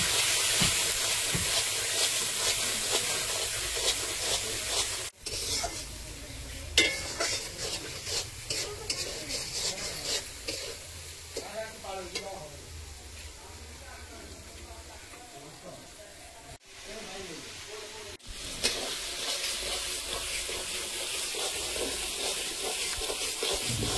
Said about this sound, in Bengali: মশলাটা খুব সুন্দর এবারে তেল ছেড়ে দিয়েছে